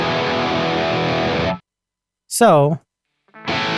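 Distorted electric guitar tone through an ML Sound Lab Amped GNR amp modeler with an impulse response loaded, sustained chords that stop abruptly, a short spoken word in the gap, then the guitar returns.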